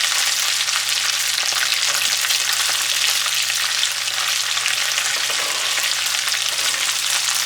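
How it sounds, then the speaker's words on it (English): Tomato paste frying in a pot for Nigerian jollof rice, with a continuous bright sizzle and crackle under occasional soft scraping as it is stirred, steady and close, with no voices. "I'm just going to stir this around until it is all broken up into small pieces"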